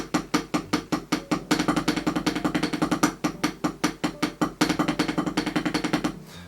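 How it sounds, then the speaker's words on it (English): A drum kit is played as a practice exercise, with single strokes giving way to doubles in a fast, even run of sharp hits. The hits are close and loud, with no talking over them. "practice the transition from your singles to doubles like this"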